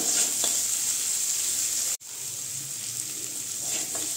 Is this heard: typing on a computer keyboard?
no